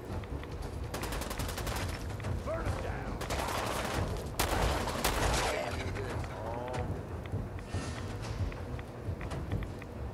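Gunfire in Fallout 4, inside the Kiddie Kingdom area of Nuka-World, rattles in fast bursts and single cracks over a steady background, near and fairly loud.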